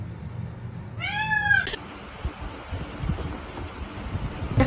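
A cat gives a single clear, rising meow close by outdoors, lasting under a second, then only soft wind and rustling follow.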